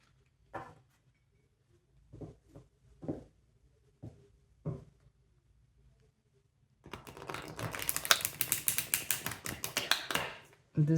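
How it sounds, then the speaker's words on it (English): A rapid, dense riffling of stiff tarot cards, loud and continuous for several seconds after a few scattered soft taps and handling noises. "I'm just going to shuffle the deck a bit"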